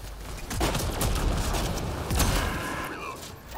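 Rapid gunfire from the Hurricane weapon in the video game Mass Effect Andromeda, a dense, loud run of shots with sharp bursts layered over game noise, with a brief pause near the end.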